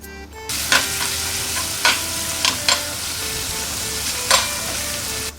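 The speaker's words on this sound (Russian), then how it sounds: "Вот сейчас выкипится жир, мы положим лук." Goose fat and offal, including whole hearts, sizzle in a pan with a steady crackling fry, broken by several sharp stirring scrapes and clacks of a utensil, close and fairly quiet.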